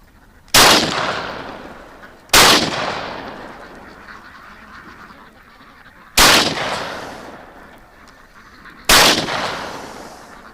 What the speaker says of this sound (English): I just fired, actually, I aimed 3 feet above where they were, and the pellets were all hitting the water